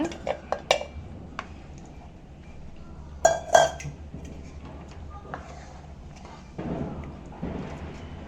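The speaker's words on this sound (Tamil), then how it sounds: "இப்படி நல்லா கலந்துவிட்டு ஒரு கொதிக்கட்டும்" Metal utensil clinks and scrapes against a cooking pot of mashed lentils for sambar, a few sharp taps then slower stirring sounds, fairly close and alone.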